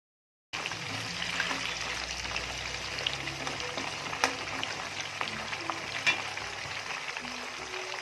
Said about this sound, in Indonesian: Aku goreng kentangnya di minyak panas.